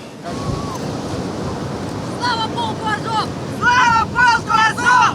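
Sea surf washing onto the shore in Odesa in winter, a steady rushing wash with wind buffeting the microphone, while people's voices chatter and call out over it near the end.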